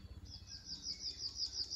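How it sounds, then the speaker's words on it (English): Eurasian blackbirds in New Zealand: a run of repeated high chirping notes in a steady rhythm, fairly close, over low background rumble. "I think these are Eurasian blackbirds."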